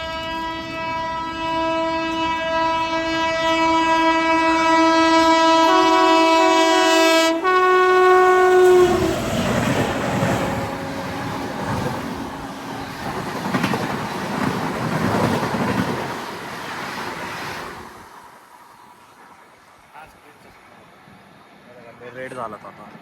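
A passing train sounds a long, loud multi-tone horn, then a rushing rumble of rolling wagons that fades away, leaving a quieter scene with faint voices at the end.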